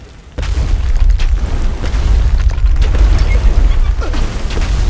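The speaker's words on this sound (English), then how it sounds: "Shoot your cannon." Deep, sustained booming rumble from heavy cannon fire in the video game Trine 2, loud and continuous after a brief quiet start, with faint crackling bursts layered on top.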